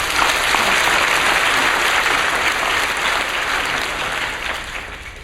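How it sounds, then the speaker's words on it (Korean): A church congregation applauds, a dense, loud and steady clapping that fills the room and slowly tapers toward the end. "하나님께 영광의 박수를 드립니다"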